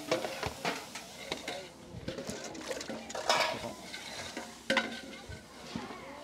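Potato curry stirred in a pan, with repeated scraping and clattering spoon strokes over a soft frying sizzle, close up, and a faint voice in the background.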